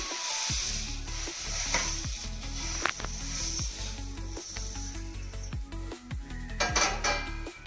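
Puri fry in hot oil in a pan, giving a steady loud sizzle with repeated sharp clicks and scrapes of utensils against the pan, and no talking.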